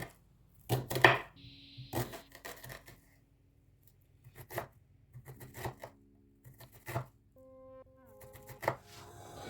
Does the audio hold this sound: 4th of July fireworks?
no